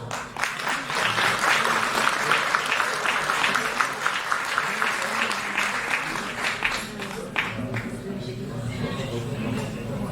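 Concert-hall audience applause at a choir concert by a volunteer chorus rolls on as sustained, fairly dense clapping. A low murmur sits beneath it and the applause tapers slightly toward the end.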